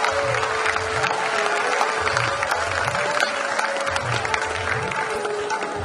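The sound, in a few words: loud applause for a souvenir book release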